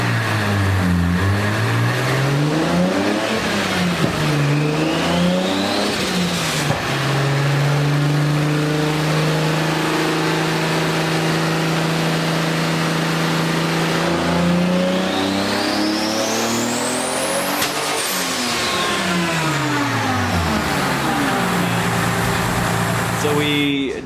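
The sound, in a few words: 2JZ-swapped BMW M3 engine revving on a dyno pull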